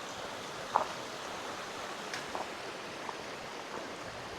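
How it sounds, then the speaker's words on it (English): A shallow creek flows over stones at a trail crossing on a hike, making a steady, soft, hissing rush throughout with a few faint clicks and knocks. "another creek crossing"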